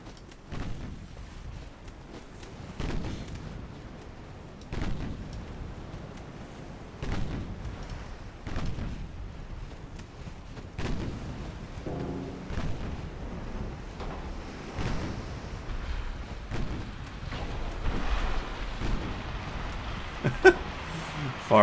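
Naval gunfire from battleships in the game Ultimate Admiral Dreadnoughts: repeated booming shots at irregular intervals over a steady rumble of sea and wind.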